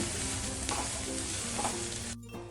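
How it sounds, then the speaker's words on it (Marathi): Grated dry coconut with garlic and ginger and onion sautéing in a pan, a steady dense sizzle heard close and fairly loud, with a few faint stirring scrapes and a slight dip near the end. "सगळं चांगलं परतवून घेऊया"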